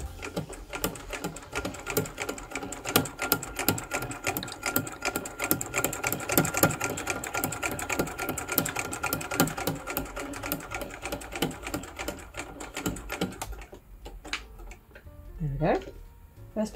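A vintage Singer 66K sewing machine stitches in a fast, steady run of mechanical ticks for most of the stretch, then stops, after which a few faint handling sounds follow; close and moderately loud.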